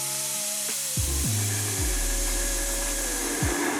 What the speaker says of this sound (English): Put this on our food grinder. That's our tomato paste for the base for our masala